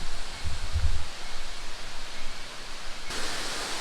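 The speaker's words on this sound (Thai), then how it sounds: "ถึงแล้วนะครับนี่น้ำตกแม่กำปอง" Mae Kampong waterfall in Chiang Mai gives a steady, broad rush of falling water heard from nearby, with a few low thumps early on and the roar growing brighter and louder near the end.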